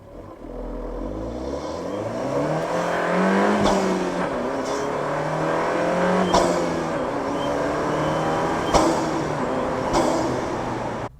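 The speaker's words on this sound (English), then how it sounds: "same clip, but with just the engine mic'd up" Fiat 124 Abarth engine revving up and settling several times, a steady mechanical drone rising and falling in pitch with sharp clicks, recorded close at the engine with no talking.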